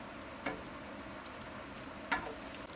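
Kobe beef fries in a pot with a steady, low, constant sizzle, broken by a few brief crackles and pops.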